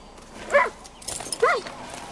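A dog in the video game Far Cry 6 gives two short, close yips or whimpers about a second apart over quiet background.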